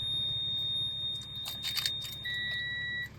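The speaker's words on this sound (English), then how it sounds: "And just lots of beeping." Oil pressure warning beeps from the dashboard of a 1994 Subaru Impreza WRX barn find, a steady high electronic tone that shifts pitch partway through, with faint clicks and rustling nearby.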